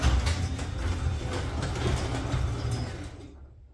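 A MyQ motorized garage door opener hums and rattles steadily for a few seconds, then cuts off abruptly into silence.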